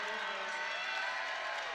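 Crowd noise fills a women's college basketball arena as a player steps to the free throw line, a brief, fairly faint wash of murmuring and cheering with no distinct claps.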